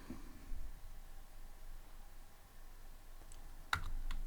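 Python code being typed on a computer keyboard: soft, quick key clicks over faint background hiss, ending in a few sharper, louder keystrokes.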